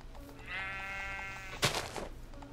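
A sheep in the Minecraft video game gives one clear, drawn-out bleat, followed by a short rustling burst and low background noise.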